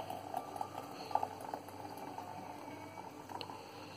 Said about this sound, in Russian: Берем теперь воду, заливаем.